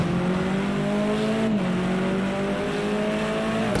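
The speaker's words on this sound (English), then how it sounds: "I am a little biased to the sound of the BMW." A BMW touring car engine in a racing video game holds a loud, steady, droning note with a short dip as it shifts, then a brief dip again near the end, with no talk over it.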